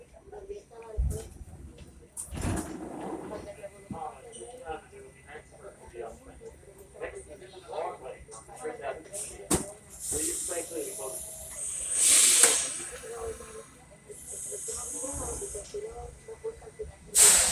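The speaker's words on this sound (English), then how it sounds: "listen to this door chime. This door chime is weird." Door chime on an R46 subway train, glitched, sounding as bright high tones that break in and out over hissing air and rumbling car noise, with people talking nearby.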